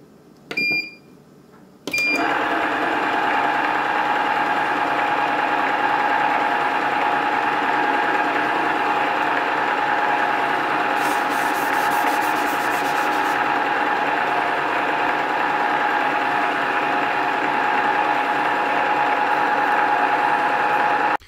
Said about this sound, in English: you're about to hear the sound it makes once the motor's engaged